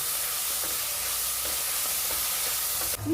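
Garlic and green chili paste frying steadily in a pan with onions, a constant close sizzle and hiss with faint stirring scrapes throughout, ending with a brief louder clatter.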